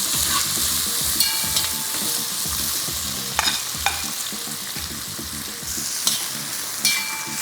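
Onions fry in a pan with jeera and other whole spices for Sindhi biryani, giving a steady close sizzle broken by repeated stirring scrapes and occasional metallic clinks of a spoon against the pan.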